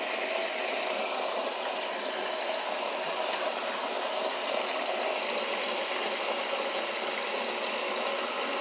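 A washing machine filling with water while washing an outdoor jacket: a steady, even hiss of inflowing water with a low mechanical undertone, continuous and moderately quiet, no voices.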